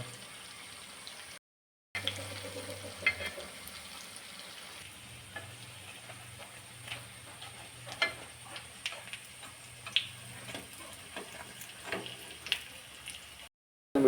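Banana snacks frying in coconut oil give a steady, close sizzle and crackle, with scattered ticks and stirring clicks as the pieces are turned; no one speaks.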